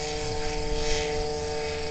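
A powered hang glider's engine drones steadily during takeoff at SRCC Airfield, a loud, continuous buzzing hum with a sustained tone and no pauses or voices.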